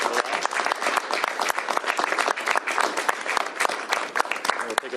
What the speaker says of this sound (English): Give her a round of applause for her work.